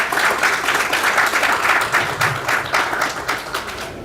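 A crowd at a financial planning business forum applauds steadily throughout, a dense wash of clapping at even strength that eases slightly near the end.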